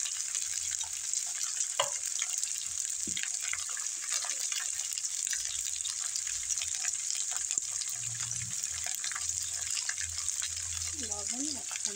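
Okra frying with turmeric in a large kadai gives a steady, close sizzle and hiss throughout, with a few soft stirring knocks and a faint voice near the end.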